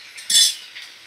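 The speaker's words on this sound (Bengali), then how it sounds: "তো ভালো করে নাড়াচাড়া করে আমি ভাজা করে নেব।" A spoon clinks and scrapes once against a pan of frying mixed winter vegetables, a single short loud stir with quiet kitchen background before and after.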